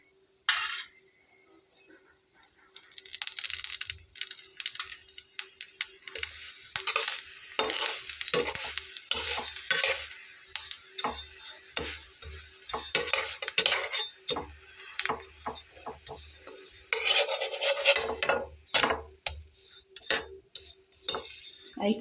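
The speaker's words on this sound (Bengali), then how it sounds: "আর একটু লাল লাল করেই ভেজে নেব," Egg paratha frying in a little oil in a pan, with frequent scraping and clinking of a spatula against the pan over a steady low sizzle, close and fairly loud throughout.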